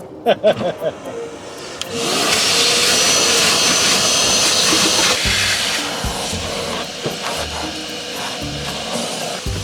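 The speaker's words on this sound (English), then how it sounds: "Right, time to wet vac." A wet vacuum whooshes on loudly and roars steadily, with gurgling slurps as it sucks up water inside a Porsche Boxster; a few knocks come before it starts.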